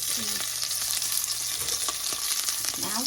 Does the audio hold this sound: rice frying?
yes